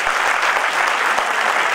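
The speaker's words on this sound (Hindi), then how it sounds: "आप अगर जोरदार तालियां बजाएं" Loud, dense audience applause at a film-industry tribute event honouring actor Om Puri, a sustained full-room clapping roar close and even throughout.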